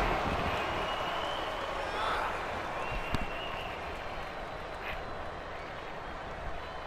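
A loud Toronto arena crowd at a women's wrestling match in the WWE 2K18 video game, a dense sustained roar of cheering and applause with a faint whistle and brief shouts rising above it.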